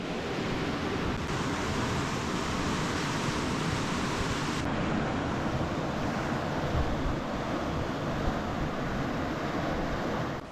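Water rushes through an open channel of the LA Aqueduct toward a siphon crossing Big Canyon, a dense, steady roar of flow that stays constant and loud, with wind buffeting the microphone and no talk.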